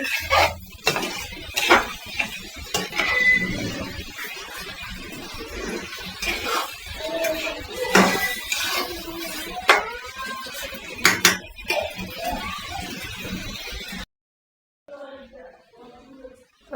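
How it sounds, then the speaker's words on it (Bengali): Raw rice is fried and stirred in a metal pot on the stove for chicken khichuri, giving repeated scraping and clattering of a spoon against the pot, with a person talking between strokes before a brief pause. "এখন চাউলটা একটু ভাজা ভাজা করে নিব"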